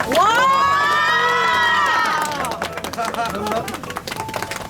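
A crowd at a subscriber futsal match claps and cheers for the winning team, with high excited shouts and whoops ringing loudly at first, then settling into lively clapping and chatter.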